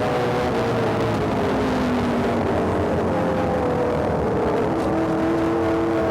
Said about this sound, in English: Roaring's the right word. Just listen to the sound of those big V8 engines.